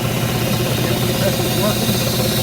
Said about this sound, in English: The air compressor, the valve's open at the bottom, so it makes noise, but we'll turn it on.